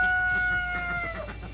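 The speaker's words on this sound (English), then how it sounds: "Like hearing the rooster crowing." A farmyard rooster crows nearby, one drawn-out loud cock-a-doodle-doo call fading toward the end, with no talking.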